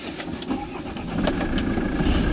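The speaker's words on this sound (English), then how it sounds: "So let's fire up the beast and go for a drive." A car engine cranks and catches, then settles into a steady running rumble, heard close up with no talking over it.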